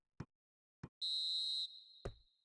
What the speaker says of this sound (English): And the whistle goes for half-time.